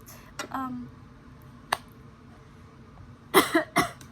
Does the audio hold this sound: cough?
yes